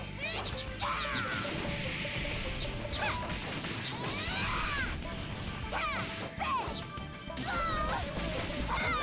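Bird calls in the video game Sakuna: Of Rice and Ruin: repeated chirping cries that rise and fall over a dense bed of crashing, clattering game effects, loud and continuous throughout.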